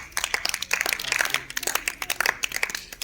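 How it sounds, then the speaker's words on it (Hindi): Students in a class 7 maths lesson clap their hands together, a quick run of sharp, uneven claps at moderate level that carries on steadily for a few seconds with no talking. "ताली बजा दो"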